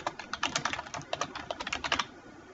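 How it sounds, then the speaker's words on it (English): Quick, irregular keystrokes clatter on a computer keyboard for about two seconds, close and fairly quiet, with no talking. "Type by and press the Enter key and type your name."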